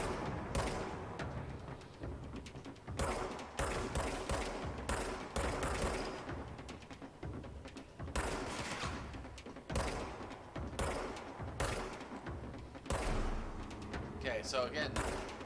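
Video game gunfire from a PS4 shooter comes in repeated loud bursts of rapid shots at uneven intervals, with a voice talking faintly beneath them.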